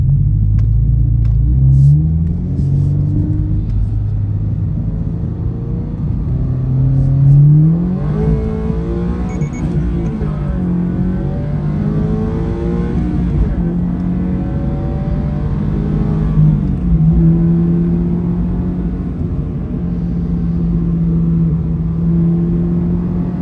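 A Toyota GR86 engine pulls up through its rev range, a loud interior rumble with rising pitch sweeps as it accelerates, easing and climbing again through gear changes, with no talking.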